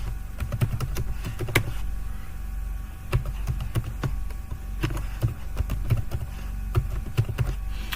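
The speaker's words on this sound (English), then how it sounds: "I'm going to type in an email right now." Rapid, irregular keystrokes on a computer keyboard as an email address is typed in, close and clear over a low steady hum, with short pauses between bursts of clicks.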